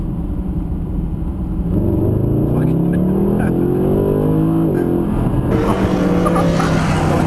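A Mercedes-Benz SLS AMG Roadster accelerates hard in second gear, its engine note climbing steadily in pitch with a brief dip at a shift or lift, loud and close throughout without any talking.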